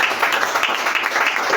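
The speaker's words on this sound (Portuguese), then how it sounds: "Que as palmas louvem ao Senhor" A church congregation clapping together during a Portuguese-language service, a brief burst of rapid, fairly close handclaps in a continuous patter.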